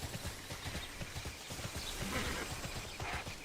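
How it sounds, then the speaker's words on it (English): Horse hooves clip-clopping in the online game TERA Online, a steady rapid trot of close hoof beats with a faint whinny-like tone toward the end. "We're on a fucking horse."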